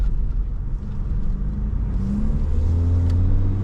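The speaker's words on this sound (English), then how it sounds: "It's all engine noise." A 2024 BMW M4 Competition xDrive on its stock muffler revs hard on the move, a loud, steady low engine drone that climbs in pitch toward the end, close and alone with no talk.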